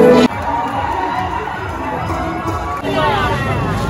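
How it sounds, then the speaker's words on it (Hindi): A packed crowd mills about at a movie theatre during the interval, a loud dense babble of many voices with shouting and movement close by. "देखो ना भाई कितना भीड़ था"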